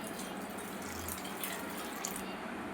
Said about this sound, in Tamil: இப்போ 2வது பால் எடுத்ததை இப்போ ஊற்றிக்கணும்.